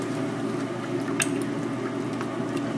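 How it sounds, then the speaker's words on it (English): A spoon stirs coconut milk through a pot of chicken curry, giving a steady, close, wet squelching and bubbling with small liquid clicks and no voices. "I'm going to go ahead and stir this up."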